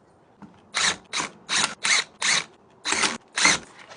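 A power tool whirs in seven short, sharp bursts with brief pauses between them as bolts come off a brake rotor on an electric bike hub motor, close and clear with no speech.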